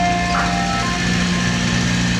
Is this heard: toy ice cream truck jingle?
yes